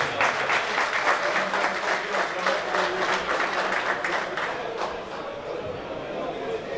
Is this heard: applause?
yes